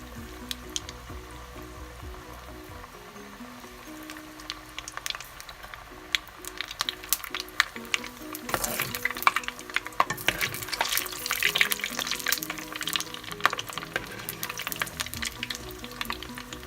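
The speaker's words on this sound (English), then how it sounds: "Just fry them until they become golden brown or a bit more." Lebanese ma'karoon sweets fry in hot oil, a continuous crackling sizzle that swells louder partway through, with scraping stirs and music playing in the background.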